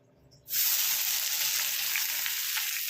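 Chopped onion hits hot oil in a pan: after a brief quiet moment, a sudden loud, close sizzle starts and holds steady and bright to the end, with no talking.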